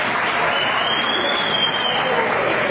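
Audience at a live forró pé de serra event clapping, a dense, continuous round of applause close by, with a voice partly over it.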